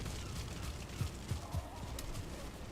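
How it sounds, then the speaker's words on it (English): Several low chicken clucks from the video game Valheim pop out briefly over a steady background hum, scattered and fairly quiet. "I hear a lot of chickens in there."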